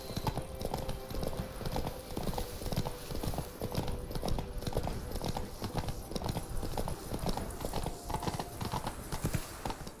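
Hoofbeats of the horse Roach galloping in The Witcher 3: Blood and Wine, a steady fast clip-clop rhythm running throughout at close range over an ambient game background.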